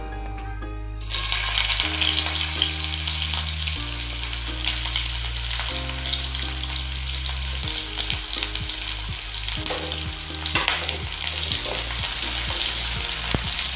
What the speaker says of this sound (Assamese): এতিয়া তেলখিনি গৰম হ'লত মই পিঁয়াজখিনি ইয়াত দি দিম